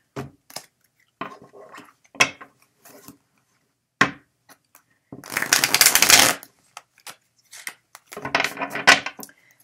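A gilded tarot deck is handled and shuffled, with scattered crisp taps and card flicks followed by two longer, dense riffling bursts, close and clear with no talk.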